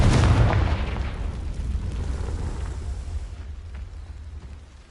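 A Confringo spell explodes in Hogwarts Legacy, a loud booming blast at the start that decays into a long, rumbling roar gradually fading out, no voices present.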